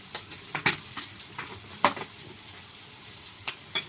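Ginger-garlic paste with a little green chilli paste and half-fried onion sizzling in a pan, quiet and close, with repeated scraping stirs of a spoon giving irregular sharp bursts over the steady frying.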